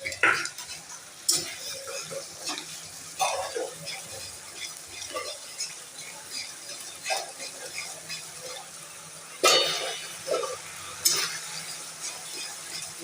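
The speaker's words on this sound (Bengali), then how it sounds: "মশলাটা আমি কষে নিচ্ছি পোস্তটাও কষে নিচ্ছি মশলার সাথে" A spice paste with poppy seeds is fried and stirred in a pan for a potato and paneer curry, a soft sizzle under repeated scraping strokes of the spoon against the metal.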